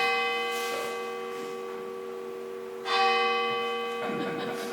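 Bells ring in Tamworth, New Hampshire, resonant sustained tones with two distinct strikes about three seconds apart, each decaying slowly, with faint background sounds.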